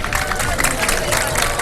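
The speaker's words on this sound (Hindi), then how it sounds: "बहुत सारी तालियां जी।" Studio audience applauding on a Ramadan transmission game show, a dense steady wash of clapping and crowd noise lasting under two seconds with no gaps.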